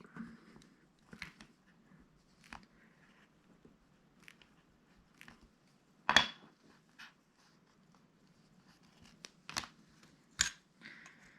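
A leaf-shaped cutter pressing through a slice of retro-coloured polymer clay cane, giving sparse soft taps and clicks at close range, with a few sharper presses and quiet gaps between them.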